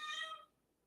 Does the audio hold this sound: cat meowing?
yes